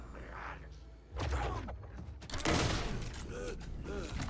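Gunfire from the video game Alan Wake II, including sniper-type rounds: several sharp, loud shots with heavy booming tails and mechanical clunks, fired in quick bursts at close range.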